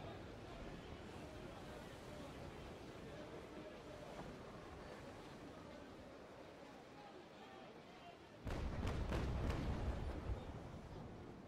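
Ship cannons fire in a pirate sailing game, a heavy volley of several booms arriving together near the end over a steady backdrop of surf and wind.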